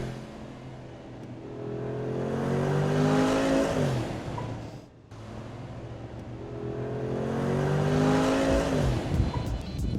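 A Mercedes G-Wagen engine fires up and revs twice, each rev a rising, swelling roar that drops back, loud and close with no talk.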